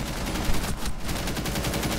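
Rapid automatic gunfire in a shooter game, rattling continuously for about two seconds with a brief dip midway, loud and close.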